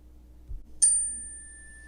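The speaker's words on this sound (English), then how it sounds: "listening to a chime" A chime is struck once after a soft low bump, giving a bright, clear metallic ring that starts sharply and fades slowly in a quiet room with no talk.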